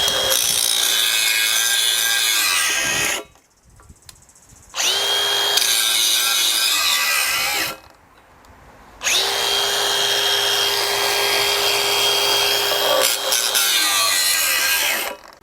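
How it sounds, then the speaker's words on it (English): A Milwaukee battery angle grinder with a trigger handle cuts in three loud, sustained bursts, each spinning up and then winding down, separated by short silent pauses. "Now we've got a good old-fashioned Milwaukee grinder with a handle that, look, I don't have to hold on to."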